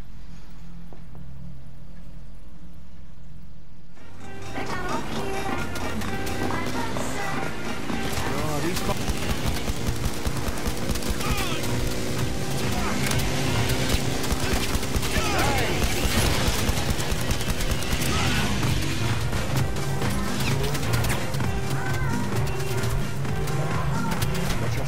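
Rapid gunfire rattles through a shootout in the VR shooter Blood and Truth, starting after a quiet opening and then continuing as dense, loud, overlapping bursts of shots for the rest of the stretch.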